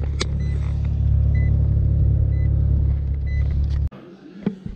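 A Mazda RX-7 (FC) fitted with taller tires cruises along a road, its steady low engine and road rumble filling the cabin until the drone drops off abruptly near the end, followed by a few faint knocks.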